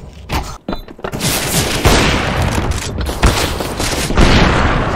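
In a video game, a bomb detonates amid a heavy barrage of loud, overlapping blasts and rapid gunfire. The booms stay dense and continuous, close and intense.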